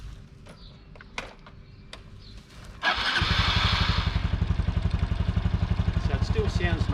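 Honda Super Cub NBC110 motorcycle engine starting up after a few faint clicks, then settling into a steady, even idle with a quick regular pulse, close and fairly loud.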